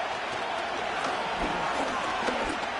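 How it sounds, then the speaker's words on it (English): Crowd at a football playoff game between the Ravens and Broncos, a steady wash of distant cheering and roaring noise with a few faint thuds underneath. "The crowd making their presence felt."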